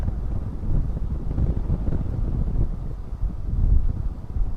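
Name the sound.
gusting wind at an airport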